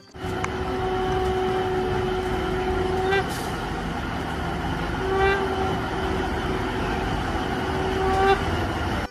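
Toy train sounds in a children's guessing game with toy vehicles, steady whistle-like tones with short chime bursts repeating a few times over a continuous rumbling bed, with speech-like tones throughout.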